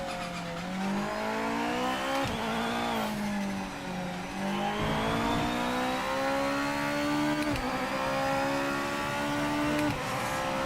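A GT500 race car in the Project Motor Racing video game, its engine droning loud and close as it rises through the gears, with sharp shift breaks and steady acceleration between them, alone without voices.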